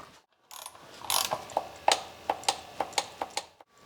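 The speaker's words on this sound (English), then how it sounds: "either put the new washer on there or use the old one and torque it up" A ratchet clicks in short bursts while tightening the sump plug with a new washer on a VW Scirocco 2.0 TDI during an oil change, each pawl click sharp and close.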